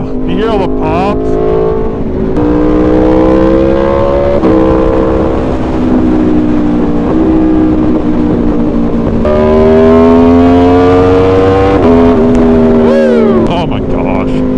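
Aprilia Tuono V4 motorcycle, 65-degree V4, revs and drops loudly while ridden, its engine note climbing and falling repeatedly, with a few brief crackling pops on the overrun and a rider speaking over the noise.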